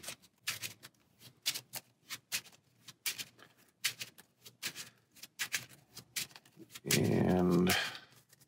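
Cards riffle and snap in a steady run of short crisp bursts, ending in a louder, longer flutter as the deck is shuffled.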